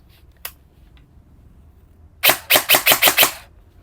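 A G&G FAR 9 airsoft gun fires a rapid burst of about six sharp, loud cracks in quick succession, preceded by a couple of faint clicks.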